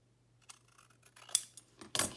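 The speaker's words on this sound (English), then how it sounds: "We have to use our scissors to straighten it up." Scissors snipping layered paper while journal cards and tags are made, a few short close cuts and rustles building to louder crisp snips at the end, with no talking.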